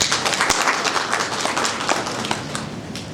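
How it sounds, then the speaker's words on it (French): A forum audience at JIEC 2025 breaks into loud, close applause, a thick continuous roar of many hands clapping with no voices over it. "Mesdames et messieurs, on applaudit s'il vous plaît."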